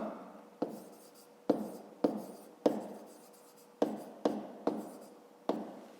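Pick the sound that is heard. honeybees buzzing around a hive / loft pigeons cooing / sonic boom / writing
writing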